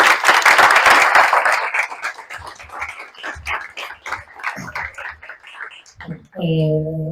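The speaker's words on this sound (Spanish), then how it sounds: "Un aplauso, ¿no?" Applause from an audience at a Bitcoin community meetup, a dense burst of clapping loudest at the start, thinning into scattered individual claps before a voice speaks at the end.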